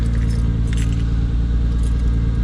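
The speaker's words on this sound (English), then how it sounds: "Got the keys." Car keys jangle close by in short metallic rattles while a car engine hums steadily underneath, outdoors on a street in Japan.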